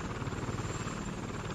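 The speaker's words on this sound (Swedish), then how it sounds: "Jokern är bättre på att köra helikopter." A helicopter from LEGO Batman flying continuously, a loud steady rotor drone with a rapid chopping pulse filling the whole moment, close and with no speech.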